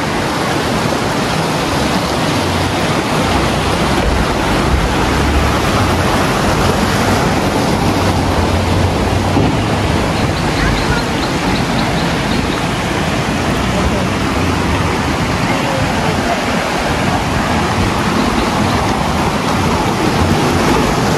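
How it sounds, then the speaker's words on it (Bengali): Water cascading down the Shoilopropat waterfall in Bandarban during the rainy season: a steady, loud, broadband rush that stays constant and close throughout, with no pauses. "এই পাশ দিয়ে পানি নিচের দিকে নামতেছে"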